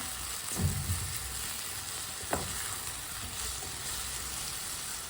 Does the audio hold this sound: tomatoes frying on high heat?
yes